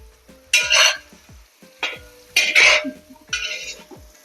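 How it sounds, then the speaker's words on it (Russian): Onion, carrot and meat fry in a pan, loud bursts of sizzling come in four waves as the food is stirred, with soft scraping and clinks of the utensil between them. "Жарим до тех пор, пока лук размякнет."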